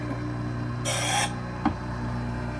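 Wissota 911 skate sharpener grinding a carbon steel hockey blade at a 1/2 inch radius of hollow, a brief bright rasping pass of about half a second over a steady machine hum, followed by a small click.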